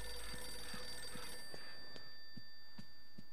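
An old telephone in the haunted mansion of the Eternal Darkness video game rings with a buzzing, tonal trill, followed by a series of evenly spaced soft thumps, alone with no talking.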